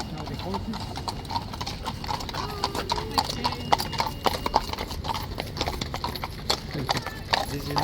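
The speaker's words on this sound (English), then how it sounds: "Okay, that's now the horses." Horses clip-clop past Buckingham Palace in London, a dense, continuous clatter of hooves on the road with an occasional whinny, mixed with crowd noise and people talking nearby.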